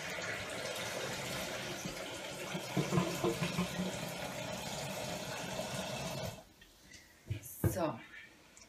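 Water, 1.5 liters, poured steadily into a Thermomix TM5 bowl, a continuous splashing gush for several seconds that then stops, followed by a few clinks and knocks.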